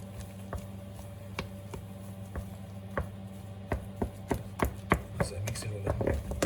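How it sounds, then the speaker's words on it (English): Spoon or utensil stirring and tapping lemon cake batter in a bowl, a series of soft, irregular clicks and knocks that grow quicker and louder toward the end over a steady low hum. "So mix it all in."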